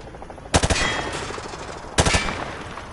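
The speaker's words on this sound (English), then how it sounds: "Grab that weapon off the table and fire at the targets behind you." Rifle fire at range targets in Modern Warfare 2, heard as two loud, close bursts of rapid automatic shots, each a quick string of cracks trailing into echo, about a second and a half apart.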